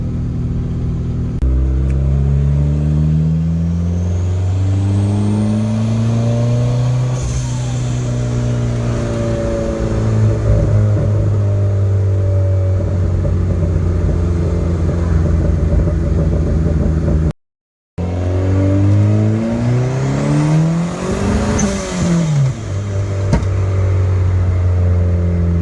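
A car with a freshly welded exhaust and crackle tune accelerates in two loud pulls, its note sweeping up through the gears with a brief gap between runs and a rumbling, popping exhaust throughout.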